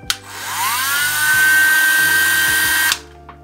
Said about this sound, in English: The Dremel tool.